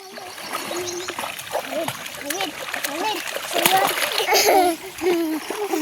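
Children splash and play in a river during a family birthday outing, with steady splashing and trickling water throughout and children's voices talking and calling out over it.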